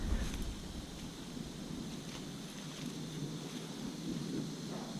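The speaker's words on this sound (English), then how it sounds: "I hear some thunder." Distant thunder rumbles low and faint during a storm over a permaculture garden, a soft continuous grumble mixed with breezy outdoor noise and no talking.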